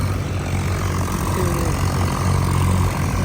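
A steady, loud 3630 tractor engine drone with a low rumbling throb runs throughout, unbroken and close, with no voices, the tractor in deep floodwater covering its tyres.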